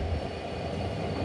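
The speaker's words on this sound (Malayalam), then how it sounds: "552 കിലോമീറ്റർ യാത്ര ചെയ്ത് ട്രെയിനിൽ ദിബ്രൂഗഡ് റെയിൽവേ സ്റ്റേഷനിലേക്ക് എത്തുകയാണ്" The Nagaland Express pulls into Dibrugarh railway station with a steady low rumble of rolling wheels and engine drone, loud and continuous with no distinct clanks.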